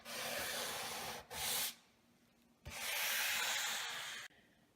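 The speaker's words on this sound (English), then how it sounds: "this time we're sanding light, so we don't want to put a lot of pressure" Hand sanding on kitchen cabinet wood comes in long, light scratchy strokes with short pauses between them, a steady rough hiss, close and fairly loud.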